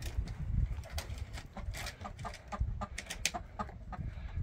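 Backyard chickens clucking close by in a steady string of short, bright calls, with faint rustling around them and no talk.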